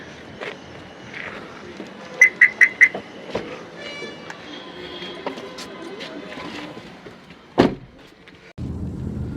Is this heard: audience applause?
no